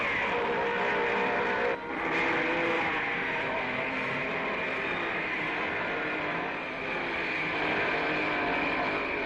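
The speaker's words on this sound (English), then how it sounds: "Lap 3, and Ascari forces the Lancia past Fangio's Mercedes on the inside." 1955 Formula 1 racing cars, a Lancia and a Mercedes, roaring past at the Argentine Grand Prix: a loud, continuous, high-revving engine drone that holds steady for several seconds with a brief dip, recorded on an old film soundtrack.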